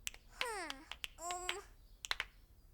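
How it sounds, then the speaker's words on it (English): Sharp finger snaps in a cartoon sing-along, several crisp clicks scattered over the clip, with a couple of high, rising-and-falling cartoon tones between them and no talking. "as I snap my fingers"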